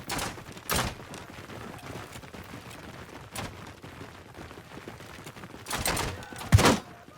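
Weapons fire in Mount and Blade Bannerlord during a battle charge, a few scattered loud thumps and cracks, with a cluster of sharper shots near the end over a faint background.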